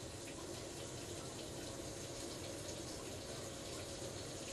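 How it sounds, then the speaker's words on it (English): Hot water runs steadily from a kitchen tap, a constant even rushing hiss at low level with no voices over it. "I've turned my hot water on so it's nice and hot"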